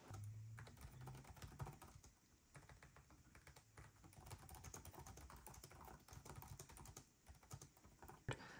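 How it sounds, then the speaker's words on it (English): Rapid typing on a Lenovo Slim Pro 7 laptop keyboard, a 2023 refresh model, gives dense runs of soft close key clicks with brief pauses and an occasional heavier thump. "So let's give this a typing test here."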